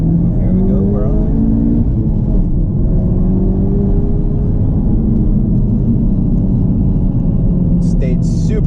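A 2018 Honda Civic Type R FK8 on the move, heard as a steady, loud engine drone and road rumble from inside the car, with the engine note rising and falling as it accelerates.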